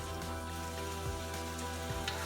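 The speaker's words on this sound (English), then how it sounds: "just add the garlic. So you just saute those 2" Garlic sautés in a pan with a steady, dense sizzle and crackle that holds at an even level throughout, close by, with no voices.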